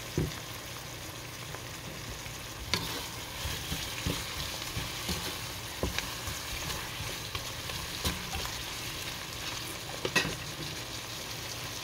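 Chicken cubes with black pepper and garlic powder stirred in a pan, faint sizzling hiss under soft scraping and clinks recurring every couple of seconds.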